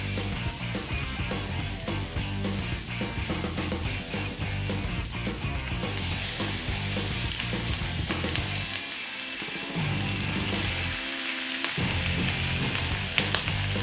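Smoked back bacon sizzles and crackles steadily in a hot pan, a dense, close, continuous frying hiss with no talk over it.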